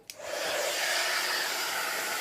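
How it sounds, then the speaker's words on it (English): An embossing heat tool blows hot air in a steady, loud whooshing hiss that starts with a click and keeps going without a break. "Now make sure you move the heat tool around."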